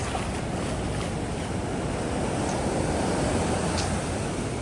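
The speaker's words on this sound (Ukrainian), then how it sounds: "таке гарне море, взагалі таке пінисте, такі хвилі" Continuous roar of foamy sea waves washing close by on a beach in Vietnam, with wind buffeting the microphone throughout.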